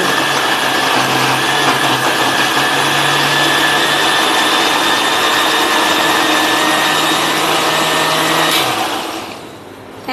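Sugar whirs in a kitchen mixer grinder, a loud steady motor drone that runs evenly and then winds down at the end.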